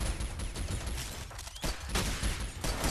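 Stationary artillery defense firing in the game SYNTHETIK, a continuous, loud barrage of rapid shots and blasts lasting about three seconds, with no pause.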